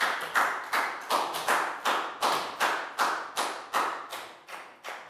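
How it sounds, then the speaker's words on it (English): A classroom group claps in quick, evenly spaced bursts of about a dozen sharp claps, crisp and fairly faint, with no talking. "High five and a big round of applause for Pat, please, guys"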